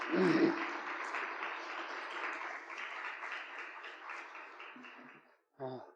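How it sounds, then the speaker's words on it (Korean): A church congregation at a missionary-sending service gives sustained applause that runs evenly for about five seconds, then stops abruptly before a brief voice. "박수로 축하해 주시기 바랍니다."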